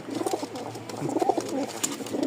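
Pigeons coo in soft, throaty, repeated bursts, close by and fairly steady, with a faint background hum.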